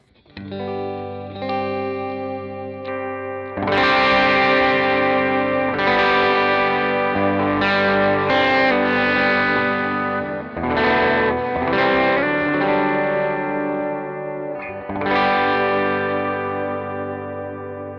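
Stratocaster electric guitar fitted with a humbucker pickup, played through effects with distortion and chorus, ringing chords and riffs sustained continuously at steady loudness, alone with no talking.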